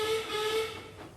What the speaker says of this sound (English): a whistle echoed through the yards